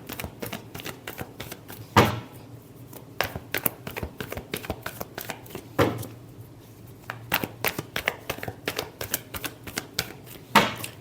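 Tarot cards being shuffled by hand: quick, crisp riffling bursts and sharp snaps repeating in irregular groups, close and clear, with no talking.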